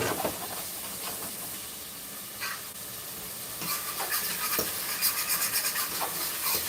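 Blended garlic sizzles in a pan over high heat while cooking Haitian rice with shrimp and coconut milk, giving a steady close hiss with a few crackling bursts.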